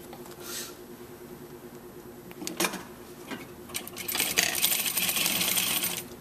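Sewing machine stitching a fabric seam for a clutch bag, starting with a few isolated clicks and brief bursts, then settling into a steady, fast, close mechanical whir near the end.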